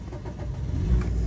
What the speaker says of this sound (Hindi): ये देखिए गाड़ी स्टार्ट हो गई